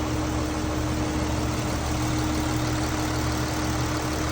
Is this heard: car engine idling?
yes